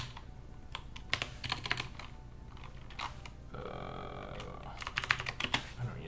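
Quiet clicking of fingers typing on a computer keyboard, irregular bursts of keystrokes close by with soft talk in the background.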